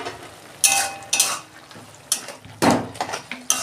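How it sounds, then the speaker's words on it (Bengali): Lid lifted off a pot of cooking spinach, a series of sharp metallic clanks and scrapes of lid and utensil against the pan, close and fairly loud, over a faint sizzle. "দেখুন বন্ধুরা, ঢাকনা খুলছি"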